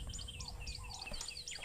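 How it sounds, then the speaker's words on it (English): A red-chested cuckoo calls in a natural setting with short whistled notes. Other rapid bird chatter surrounds it over low rumbling background noise, faint and brief. "the Pitmefro, the red-chested cuckoo."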